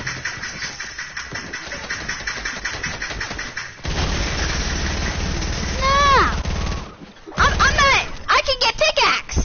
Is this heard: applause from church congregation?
no